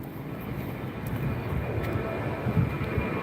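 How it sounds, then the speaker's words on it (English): An airplane takes off near the end of a runway and its jet roar rises and swells steadily at a moderate distance, heard outdoors with no voices. "Got another airplane taking off."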